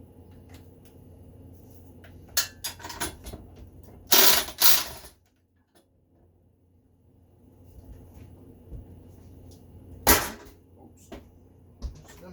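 A ratchet wrench working 12 mm bolts off a Kawasaki engine during a refresh, with short bursts of clicking, two loud close rasping ratchet runs, then a pause and scattered light clicks.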